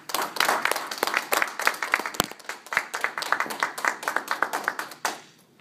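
An audience claps to welcome a speaker onto the stage, scattered individual claps building into a moderate round of applause that carries steadily and then stops abruptly near the end.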